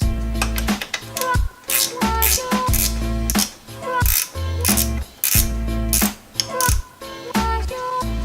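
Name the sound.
ratchet threading turbo manifold bolt on Miata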